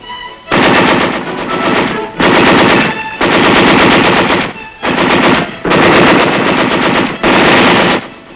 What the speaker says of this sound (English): The enemy fire is returned by our forces with devastating effect.